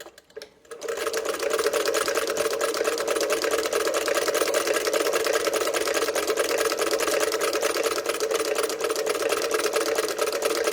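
A sewing machine set to its longest basting stitch, fitted with a modern needle in place of the extra-long kind it was built for, runs steadily and loudly for about ten seconds after a brief start, with no talking.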